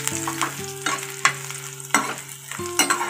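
Oil sizzles steadily in a pan while bitter gourd is fried for a Telugu curry, with a few clinks and scrapes of a spoon stirring at intervals, close and fairly quiet, no talk.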